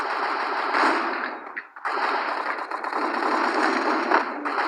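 Continuous automatic gunfire roars in a shooter video game, a dense, unbroken rattle that dips briefly near the middle before resuming at a steady, loud level.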